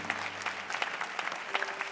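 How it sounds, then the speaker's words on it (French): A church congregation claps in a brief, lively burst of applause, many hands at once with sharp individual claps standing out, fairly close and loud, with no speech. "Je vous invite à applaudir"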